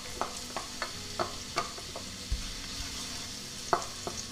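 Garlic sizzles softly in a pan of oil while cooking hake Basque style, a quiet hiss punctuated by a series of light, irregular taps and scrapes from stirring.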